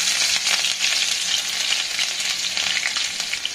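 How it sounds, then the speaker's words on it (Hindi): Green chilies crackle and sizzle in hot oil for egg bhurji, a steady, dense, close frying hiss with small popping bursts throughout and no voices. "तेल गरम हो गया, अब हरी मिर्च डाल देंगे।"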